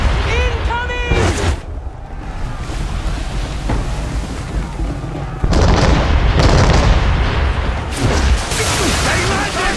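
Naval cannons fire and shells crash in an Assassin's Creed 3 sea battle, loud booms and splashing impacts over churning water, with shouted crew voices mixed in.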